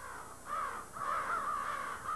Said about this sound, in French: Après une nuit de repos, les corneilles de Grande Baie repartent vers leur garde-manger.